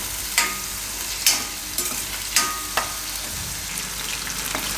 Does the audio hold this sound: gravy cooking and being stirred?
yes